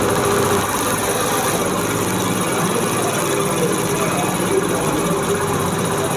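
A Honda CD70 motorcycle fitted with an HHO hydrogen kit runs with its engine raised a little, a loud, steady drone that holds at the same level throughout.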